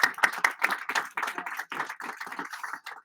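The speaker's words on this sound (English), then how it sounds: "Welcome, Sarah. Huge applause." A small audience at a talk welcomes a speaker with scattered hand clapping, close and fairly quiet, lasting about three seconds and thinning toward the end.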